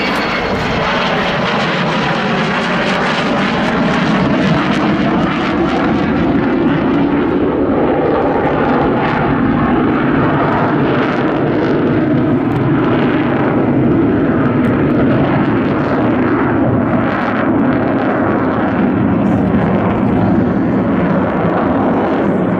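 The Avro Vulcan XH558 jet bomber flies overhead with a loud, continuous engine roar that swells and shifts as it passes, filling the whole stretch with no voices.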